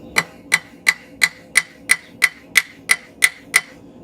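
Steady hammer blows ring on a steel bar being squared during forging, eleven evenly spaced bright metallic strikes about a third of a second apart, close and clear with no talk.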